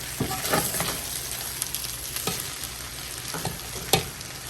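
Beef fried rice with egg and bean sprouts gets folded and stirred in a hot pan, a bright continuous sizzle punctuated by scraping spatula strokes, no speech.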